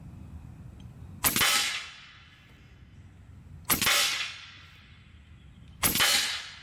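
An Umarex Gauntlet 2 SL30 side-lever big-bore PCP air rifle fires 44.8-grain FX pellets, giving three sharp, loud cracks spaced a couple of seconds apart. Each crack has a short decaying tail over quiet background.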